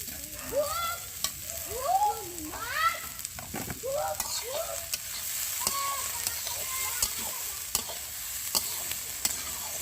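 Fried eggs are stirred into onions frying in a pan for a Bengali egg and onion curry, making a soft, even sizzle with stirring. Brief chirping tones rise over it early on.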